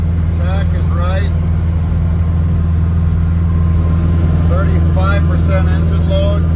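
A VW bus fitted with a Subaru 2.2 engine and automatic transmission drones along the road at speed, a loud steady engine hum heard from inside the cab. Someone talks over it at intervals.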